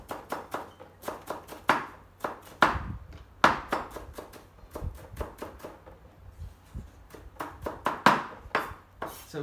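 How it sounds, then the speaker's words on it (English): A knife chops carrots small on a cutting board in a home kitchen, a run of quick, sharp, close taps in irregular bursts with brief pauses between them. "shred carrots, chop it small as well"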